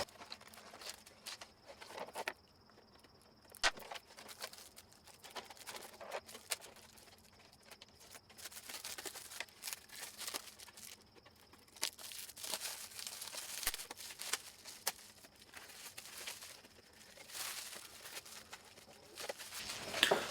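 Protective plastic film being peeled off a freshly painted RC car body, with crinkling and tearing sounds in irregular bursts, close and moderately quiet, with no talking.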